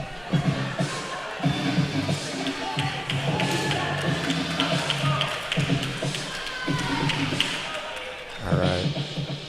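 At a pickleball match, crowd cheering and clapping rise around a few sharp paddle or ball thumps, moderately loud in an indoor arena, with a commentator talking over it.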